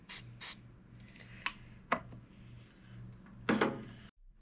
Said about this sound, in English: I got some of that fancy spray protectant stuff that we're supposed to put on here